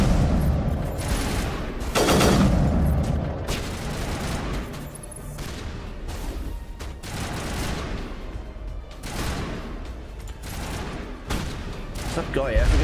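Rapid bursts of gunfire in the video game Mass Effect, repeated shots and blasts popping in clusters throughout, with a voice talking over the shooting.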